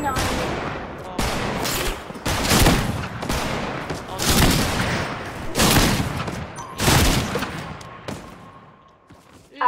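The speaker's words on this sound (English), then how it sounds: "There's someone shooting" Gunfire in Fortnite comes in repeated loud bursts of rapid shots, about six clusters spaced a second or so apart, close and punchy with short lulls between.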